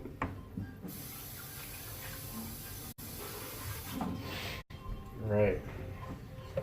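Tap water runs into a kitchen sink as a container is rinsed under it, a steady hissing stream with a brief louder splash near the end, set against light background noise.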